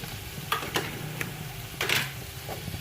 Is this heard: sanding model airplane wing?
no